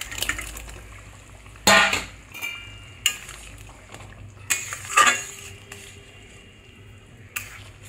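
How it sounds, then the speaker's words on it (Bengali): Fried eggs go into a boiling egg curry and get stirred, heard as several sharp clanks and scrapes of a utensil against the pot, spaced out over a soft background simmer. "এবার আমি ভেজে রাখা ডিমগুলো দিয়ে দেবো"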